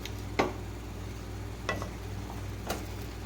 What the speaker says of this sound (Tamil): இந்த கிழங்கோஸ் எல்லாம் ஒரு 2 நிமிஷம் நல்லா கலந்து விட்டுருங்க.